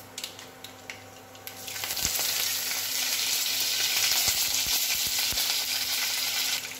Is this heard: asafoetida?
yes